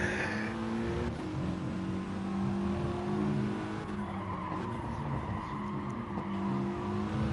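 BTCC touring cars racing at Catalunya in the GT Sport video game, a steady roar of engines with tires squealing under braking, continuous and dense, with faint commentary underneath.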